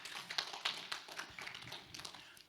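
Scattered claps from a small church audience at a youth night, sparse and fairly quiet, with uneven sharp hits that thin out toward the end.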